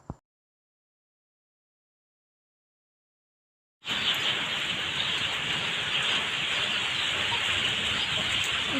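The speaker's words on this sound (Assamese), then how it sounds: "এতিয়া বহুত পানী হৈ আছে পূৰা বৰষুণ দি আছে" Heavy rain pours down during a flood. After about four seconds of near silence, a loud, dense downpour begins abruptly and keeps a steady roar to the end.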